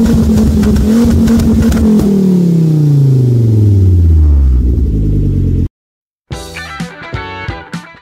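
A Volvo S60R fitted with an IPD catback exhaust revs loudly up close, the engine note sweeping and falling as the revs drop, then cutting out briefly before another burst of throaty revving.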